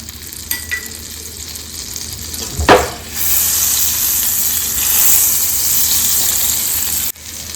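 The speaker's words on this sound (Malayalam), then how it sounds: "ഇപ്പൊ ഇവിടെ ബട്ടർ മെൽറ്റ് ആയിട്ടുണ്ട്." Butter melting in a hot pan for a cheesy noodle omelette gives a steady, close frying sizzle that starts with a sharp hiss and then holds as a continuous crackle.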